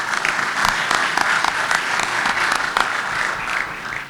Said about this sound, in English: Just one round of applause for Gene for putting together this show.